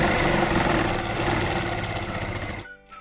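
A sewing machine runs a steady, continuous stitch along a marked line on a katori blouse, close and loud for most of the moment, then stops abruptly near the end.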